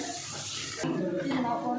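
Water runs steadily from a kitchen tap while a cook prepares potato masala for pooris, a loud continuous gush that changes tone midway as the stream hits the vessel.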